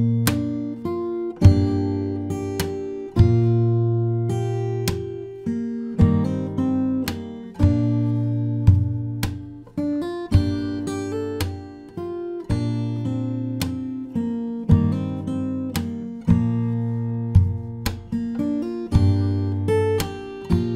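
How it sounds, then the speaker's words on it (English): Fingerstyle acoustic guitar plays the second chorus of a song, with steady plucked chords and bass notes in a regular rhythm, close and clear, with no talking. "Let's play the chorus from the start, 2nd chorus."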